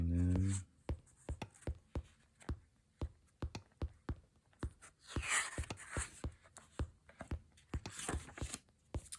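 Pencil drawing in a sketchbook, faint quick scratching strokes and taps in an uneven rhythm, close but quiet, with a voice talking briefly over part of it.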